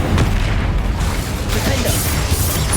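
A Confringo blasting spell goes off in Hogwarts Legacy with a loud, booming burst. Rumbling low-end blasts rise and fall over under three seconds amid combat noise.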